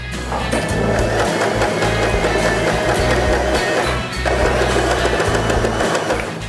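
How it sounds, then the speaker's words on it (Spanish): A Janome 311 sewing machine stitches steadily under pedal control, its fast mechanical whir and needle clatter loud and continuous, with a brief slowdown around four seconds before running on. "comienza a presionar el pedal para que la máquina avance"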